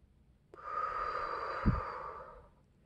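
One long, soft exhale in a quiet room, close and breathy, lasting about two seconds with a slight snort in the middle before it fades.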